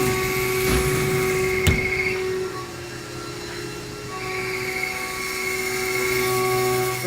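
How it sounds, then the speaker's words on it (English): A 1996 Haas VF3 CNC mill spins its spindle at 7,500 RPM while cutting an aluminum clamp, giving a steady, close mechanical whine and hum with shifting tonal notes and a brief sharp click partway through. "We're machining a piece of aluminum, essentially just a clamp."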